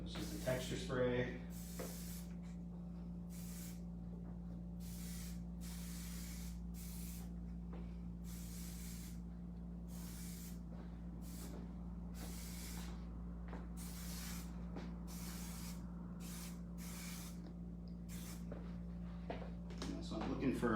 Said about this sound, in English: Texture spray.